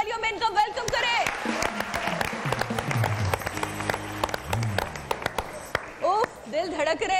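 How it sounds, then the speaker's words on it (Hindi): Studio audience at a televised Pakistani singing competition applauds in a sustained burst of clapping, with music and a host's voice layered over it throughout. "भरपूर तालियों में इनका वेलकम करें"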